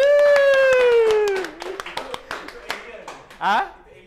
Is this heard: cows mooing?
no